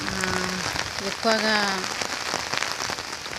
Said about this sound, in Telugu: చూడండి వర్షం పడుతుంది